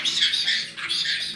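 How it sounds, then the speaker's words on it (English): A pet bird squawks loudly at close range in two harsh, raspy bursts separated by a short break, with no voices over it. "Oh, you're a happy bird."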